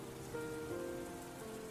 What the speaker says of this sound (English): this rain reminds me of them.